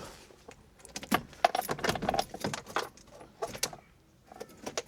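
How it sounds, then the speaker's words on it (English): Car keys for a Renault 6 jangle in irregular bursts of metallic clinks and rattles, loud at moments and then quiet between shakes, heard up close. "the keys have been located"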